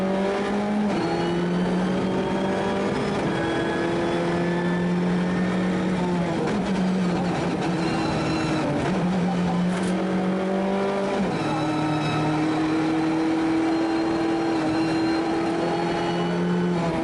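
A Hyundai i20 R5 rally car drives a tarmac stage at Rally Islas Canarias, its engine loud and close, revving hard and dropping pitch with each gear change over about seventeen seconds.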